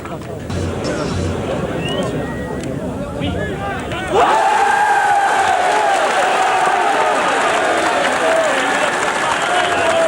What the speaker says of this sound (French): la Seine-et-Marne vient de se qualifier et ira à Casablanca sous un tonnerre d'applaudissements de la foule.